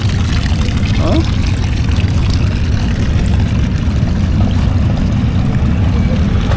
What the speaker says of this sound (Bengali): দেখেন এই যে পানিটা পড়তেছে একটা বাঁশের ই দিয়ে রাখছে